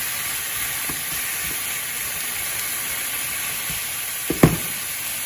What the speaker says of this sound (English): it's gonna render out a lot of that fat while browning it, giving it so much flavor